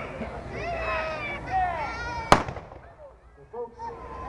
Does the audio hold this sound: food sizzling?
no